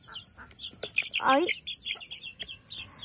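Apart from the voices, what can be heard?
chicks chirping and clucking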